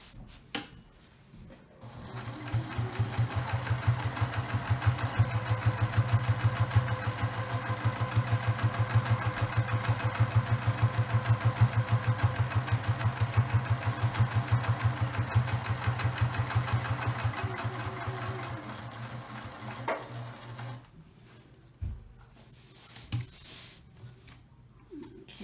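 A sewing machine stitches a fabric placemat in one steady run of rapid mechanical whirring and needle clatter, close and prominent, before stopping and leaving a few small handling clicks.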